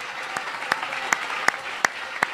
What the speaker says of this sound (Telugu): స్తోత్రం అంటూ చప్పట్లు కొట్టండి బిగ్గరగా.